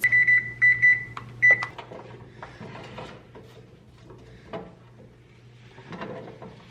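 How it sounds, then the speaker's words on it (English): A kitchen oven's control panel gives a quick series of short electronic beeps as it is set to roast asparagus, squash and peppers at 400 degrees. A low hum and quieter mechanical clicks and rattles follow. "We're gonna get this roasting in the oven at about 400 degrees for about 20 minutes."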